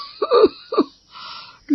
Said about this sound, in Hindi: न जाने क्यों ये खांसी रुकने का नाम नहीं ले रही